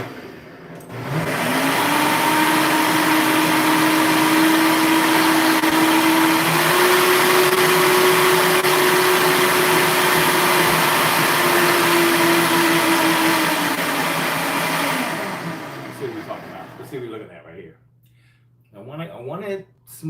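A blender pureeing smoky creamed corn, a loud steady whirring motor that starts, holds for about fourteen seconds with a slight rise in pitch, then winds down to a stop, with a voice speaking briefly afterward.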